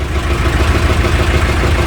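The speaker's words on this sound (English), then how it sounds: "our engine seems to be running pretty well" A canal narrowboat engine runs at a steady idle, a continuous low, throbbing rumble with a regular pulse and no pauses.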